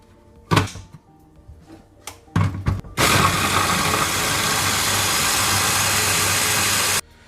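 A meat grinder mincing ground meat a second time for İnegöl köfte, its motor starting after a few knocks and then running as a steady, loud, even hum for about four seconds before stopping abruptly.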